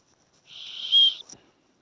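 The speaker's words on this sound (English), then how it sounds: "And it does have the whistle." A Leatherman Signal multi-tool's built-in whistle blown once, a short shrill steady tone that rises and stops abruptly, close and clear against near silence.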